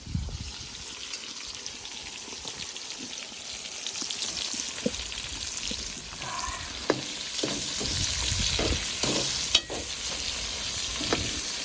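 Peppers and onion sizzle and fry in a cauldron set over a grill, a steady loud hiss with scattered stirring scrapes and clinks throughout.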